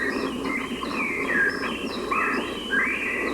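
Recorded song of a Great-billed Seed-finch (bicudo), a flowing series of clear whistled, warbling phrases rising and falling over a steady hissing background noise, moderately loud.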